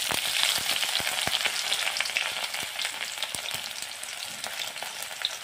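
Chopped onion with panch phoron frying in hot mustard oil in a kadai, a close, steady crackling sizzle with sharp spitting pops throughout and no talk.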